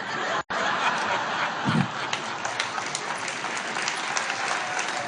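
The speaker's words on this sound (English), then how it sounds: "This is the signal for applause." Warm, continuous audience applause at a recovery-group book study weekend, loud and even after a brief dropout near the start, with a few laughs mixed in.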